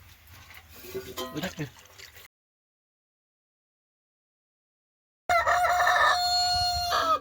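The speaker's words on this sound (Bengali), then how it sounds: "বরং মোরগের ডাকে।" A rooster crows loudly nearby after a stretch of silence, following an earlier burst of clucking and fowl calls.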